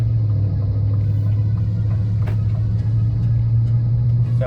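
A BMW E39 engine idles with a low, steady rumble up close after a MAF fault repair, then pulls away, the hum continuing evenly without any voices.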